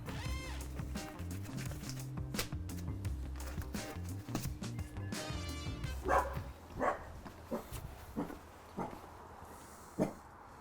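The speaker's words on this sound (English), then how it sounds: "What are you barking at?" A dog barks several times in short separate bursts over steady music, the barks sharp and fairly close.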